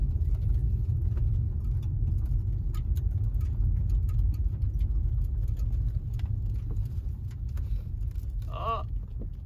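A Nissan G35 drift car idles with a steady, low rumbling engine and scattered ticking clicks over it, heard from close by; a brief whine rises near the end.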